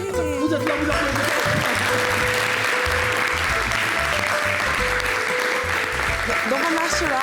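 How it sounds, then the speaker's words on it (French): Audience applause at a televised summer show event with pageant queens, a sustained wash of crowd clapping under loud amplified voices and background sounds, steady and dense throughout. "Vous êtes là, vous applaudissez."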